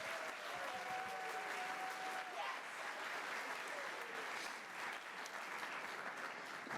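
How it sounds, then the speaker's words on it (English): A concert audience at a high school instrumental concert applauds the symphony orchestra, a sustained dense round of clapping heard on the board mix, with a voice speaking over it early on. "how about another round of applause for the Symphony Orchestra"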